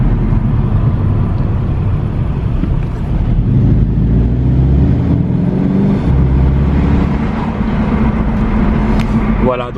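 A car drives through city streets with 30 km/h zones and speed bumps, giving a continuous, loud road and engine rumble with shifting tones, while a person talks over it.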